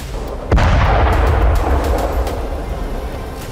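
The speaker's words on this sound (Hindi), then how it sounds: "सामने से हमास के कुछ लड़ाके आए और एक RPG की मदद से टैंक को उड़ा दिया।" A Hamas-made Al Yasin 105 anti-tank rocket strikes a tank in the Gaza Strip, one sudden heavy blast that rolls into a long, loud rumbling roar which slowly fades.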